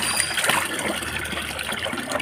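Water runs steadily, trickling and splashing close by for a couple of seconds, with no talk over it.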